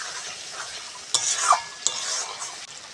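Spice masala being stir-fried in oil for a chicken curry, with sharp spatula scrapes against the pan over a soft, steady sizzle, close and clear with no talking.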